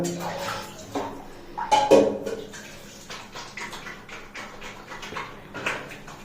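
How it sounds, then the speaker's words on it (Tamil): Tap water runs during a baby's bath, a steady splashing wash that rises briefly louder midway, heard close up with faint background sounds. "தண்ணி வருது பார்த்தீங்களா?"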